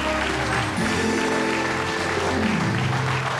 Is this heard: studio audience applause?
yes